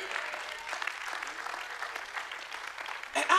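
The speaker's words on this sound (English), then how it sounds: "Oh, that deserves a hand clap of praise." A church congregation claps in praise during a sermon, a steady dense wash of many hands that holds evenly throughout, swelling louder near the end.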